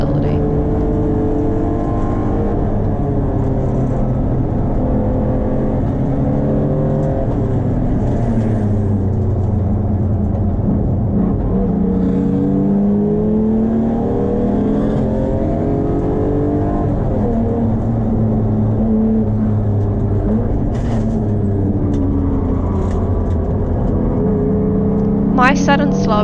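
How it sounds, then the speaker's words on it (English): BMW E36 and MG race cars at speed on a circuit at Taupo, engines droning loudly and continuously with shifting pitch as they corner through the infield, with a brief sharper burst near the end. "Kel tails the MG through the infield, showing his skill in the BMW's cornering ability."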